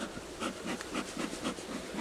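Honey bees buzzing inside a hive with a pulsing hum, swelling and fading in regular waves, close by with no voices.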